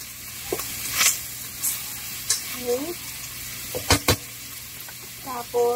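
Pancit bihon sizzling and being stirred in a frying pan with onion, giving a steady hiss of frying broken by scattered scrapes and knocks of the utensil, with a voice briefly audible in the background.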